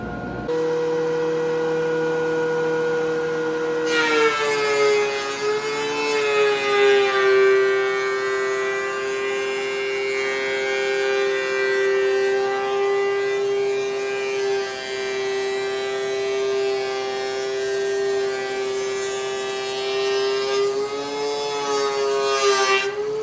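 A DeWalt DW735 thickness planer feeding old deck wood, heard as a loud, sustained, high-pitched motor whine that starts abruptly and holds steady with slight pitch dips, with no voices.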